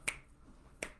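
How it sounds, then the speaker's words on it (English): Two crisp finger snaps, sharp and close, spaced under a second apart in an otherwise quiet room. "you may have seen me snapping my fingers"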